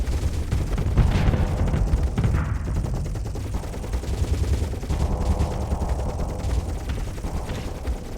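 Artillery ship cannons pound away in a space battle in the video game Starsector, a dense, continuous barrage of booming shots and crackling impacts layered over a low rumble, loud and unbroken with no speech.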